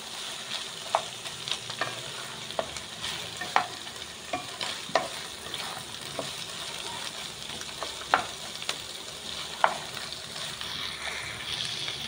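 Onions and tomatoes frying in a pan with salt, a steady close sizzle broken by sharp scraping strokes of a spoon stirring at irregular intervals.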